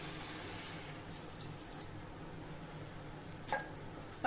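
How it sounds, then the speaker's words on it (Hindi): A cup of water pours into a pan of vegetable chop suey mixture, a soft, steady watery rush close by with a brief splash near the end and no talking. "एक कप पानी ऐड करूंगी मैं,"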